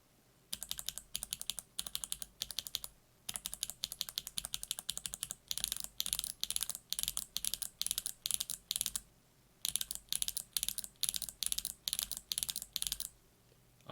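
Typing on a mechanical keyboard with BOX Mute Jade switches, rapid bursts of crisp clicky keystrokes in uneven runs with short pauses between, close and fairly quiet, with no talking.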